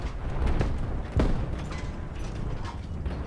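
Booming tank explosions in War Thunder Mobile, one sharp blast standing out among rumbling bursts and mechanical noise, fairly loud and without speech.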